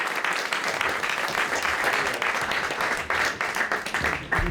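An audience at a political speech breaks into steady applause, a dense crowd of hands clapping continuously throughout, fairly loud and filling the room.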